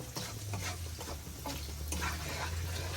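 Seasonings of Magic Sarap, bay leaf, black pepper and salt being stirred in a hot pan while cooking dinuguan, a steady sizzle with scraping spoon strokes, close and continuous, no voices.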